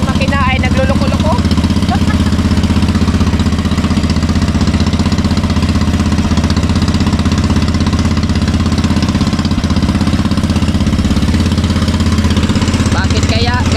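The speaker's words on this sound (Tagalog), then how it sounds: "at yung ating makina ay nagluloko-loko" Outboard engine on a small fishing boat at sea, running rough and loud close by, a steady low drone with uneven knocking pulses throughout, with faint voices at moments.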